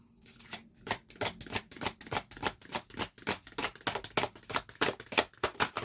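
Tarot cards being shuffled in rapid, even riffles, a steady train of crisp papery flicks, close and fairly quiet, with no voices.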